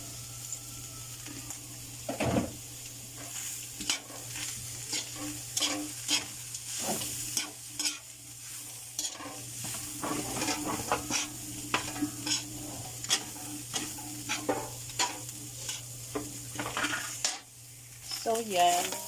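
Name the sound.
stirring and frying palabok sauce in a pan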